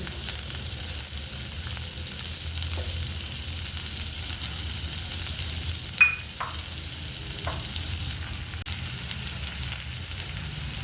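Ginger, garlic and coriander stalks frying in a pan, giving a steady soft sizzle with a sharp clink of a utensil against the pan midway and a few faint stirring scrapes.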